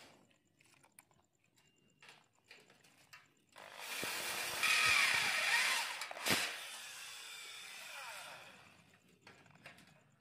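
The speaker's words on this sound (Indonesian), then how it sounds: "Kita bor lagi ini di bagian tepi ya." A power drill whirs up and grinds through light-gauge steel for a few seconds, close and loud, then winds down amid quiet handling noises.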